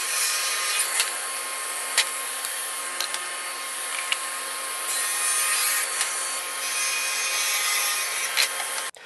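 A table saw fitted with a 60-tooth blade crosscuts a wooden board, giving a steady, close, bright whine with faint rubbing that runs for about nine seconds and then stops abruptly.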